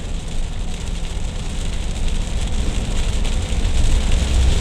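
Rain hisses steadily against a car as it drives along the Binjai toll road, over a constant low road and engine rumble with no pauses.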